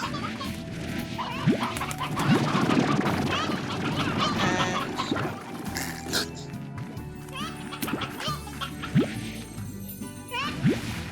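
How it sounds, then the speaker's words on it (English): Chickens in the video game Slime Rancher cluck and squawk in a busy overlapping chorus, with a dense layer of game sounds and soft chirps throughout. "Let's take some more chickens."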